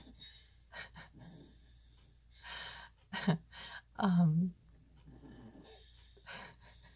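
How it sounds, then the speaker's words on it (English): A dog's breathy snores and snorts, a few louder rumbling breaths in the middle, close by with quiet pauses between them. "it's my dog snoring"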